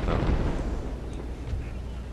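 Cannon fire in the Wilson's Creek Civil War game, a heavy booming rumble with a couple of distant thuds, dense low and sustained over the short stretch.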